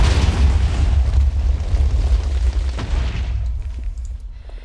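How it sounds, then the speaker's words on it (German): A TNT explosion in Minecraft bursts as a loud, broad boom that rumbles heavily and then decays over several seconds into quieter crackling debris. "Es explodiert!"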